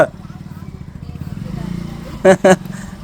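A motorbike approaches with a low engine drone that swells as it nears, then two sharp, loud bursts close by, with voices talking over it.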